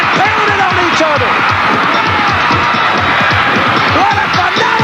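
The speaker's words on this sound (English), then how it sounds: "The crowd's into it." A ringside wrestling crowd at a mid-1980s televised match cheers and roars steadily and loudly throughout, with a commentator talking over the noise.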